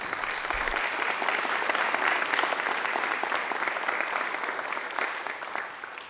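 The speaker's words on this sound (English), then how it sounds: "It's the first applause of the evening." A council meeting audience breaks into sustained applause, steady dense clapping from a crowd that holds fairly even throughout and tapers slightly at the end.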